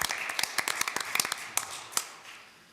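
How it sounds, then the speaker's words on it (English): Scattered, light clapping from a small group at a birthday celebration, a loose run of close hand claps that thins out and fades over a few seconds. "so round of applause."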